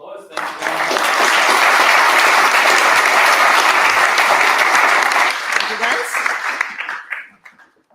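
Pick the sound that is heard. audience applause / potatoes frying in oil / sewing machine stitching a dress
audience applause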